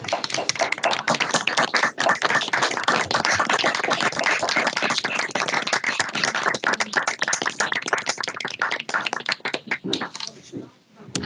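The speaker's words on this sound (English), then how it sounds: "and another round of applause." Audience applause at an awards event for recognised learners, dense rapid clapping from many hands, loud and sustained, then thinning and tapering off toward the end.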